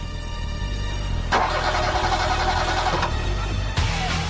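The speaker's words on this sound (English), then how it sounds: "Starved of oxygen, the vehicle's engines splutter and die." Car engines sputtering and running rough inside a smoke-filled road tunnel during a fire, a continuous loud mechanical drone with uneven surges and a faltering dip near the end.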